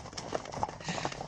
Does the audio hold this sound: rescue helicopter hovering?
no